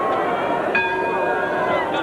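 A boxing ring bell signals the start of round four at a 1989 professional heavyweight bout, Lennox Lewis vs Greg Gorrell: one sustained metallic ring that fades slowly over steady crowd noise and commentary.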